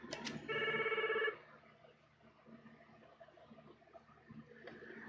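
A Merlin Legend MLX-20L console phone calls the house phone, which gives one loud electronic trilling ring that is close and clear and lasts about a second, then faint room noise with small clicks and handling sounds.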